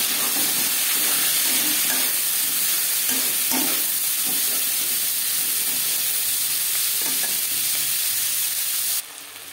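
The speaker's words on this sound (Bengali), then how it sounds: "পেঁয়াজ টমেটো ভাজা হয়ে গেছে, এর থেকে বেশি ভাজার প্রয়োজন নেই" Chopped onions and tomatoes fry in a pan for an aloo chicken curry, giving a steady, close sizzle with occasional stirring scrapes that runs without pause until it drops away near the end.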